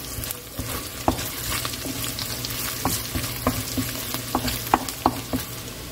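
Chopped onion going into a hot pan for a Kerala fish curry, a steady sizzle of frying with scattered sharp clinks and scrapes of stirring close by.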